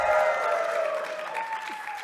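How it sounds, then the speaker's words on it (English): Audience at a ShmooCon security conference talk cheering and applauding, a dense, steady wash of clapping with a few shouts from a roomful of people, sustained for the whole span. "So every once in a while we should randomly cheer"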